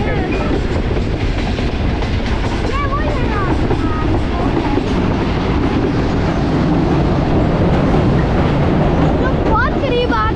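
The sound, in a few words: train passing at Dharampura railway crossing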